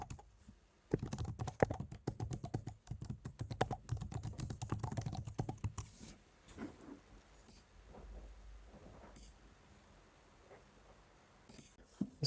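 Quick bursts of typing on a computer keyboard as a search question goes into Google, dense clicking for several seconds before slowing to scattered keystrokes, fairly close and quiet.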